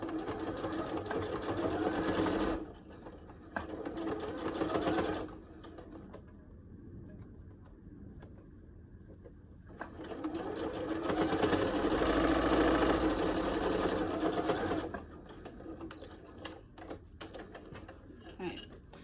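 A sewing machine stitches down folded bias tape along the edge of a fabric face mask in several runs, its close, steady whir starting and stopping with quiet gaps between bursts.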